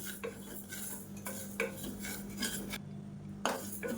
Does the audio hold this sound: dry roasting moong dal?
yes